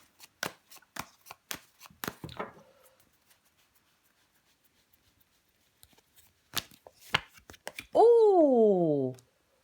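Tarot cards handled on a table, a string of close, crisp taps and slaps as a card is laid over another, then a pause, more card snaps, and a voice exclaiming at the end.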